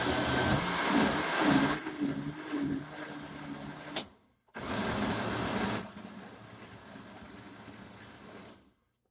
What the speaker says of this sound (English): I'm gonna do a little bit of pulsing to just get it smooth.